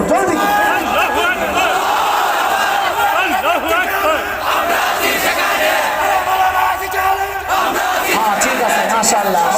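At a religious sermon gathering, a large crowd shouts the takbir in unison, a loud, sustained wall of voices with rising and falling chanted calls that fills the whole stretch without pause.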